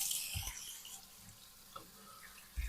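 Cold tap water running for washing during cleaning, a faint hissing stream with a few soft splashes and drips, quiet and without talk.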